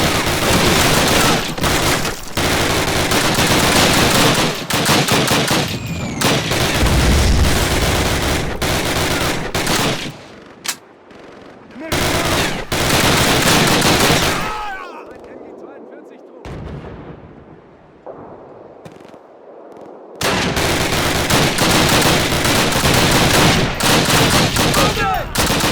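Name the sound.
gunfire in Call of Duty 1 video game battle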